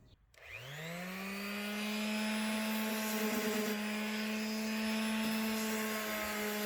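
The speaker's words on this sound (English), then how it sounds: "I got down to sanding the entire piece" An electric sander sands a wooden mid-century modern side table, spinning up from silence to a steady, loud, whining hum that holds level and close throughout.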